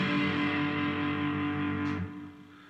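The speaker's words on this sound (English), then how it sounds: "the distortion pedal, which basically just adds a bunch of feedback and fuzz over the sound of the clean guitar" An electric guitar played through a distortion pedal gives a thick, fuzzy sustained chord that rings loud and close, then is cut off and dies away near the end.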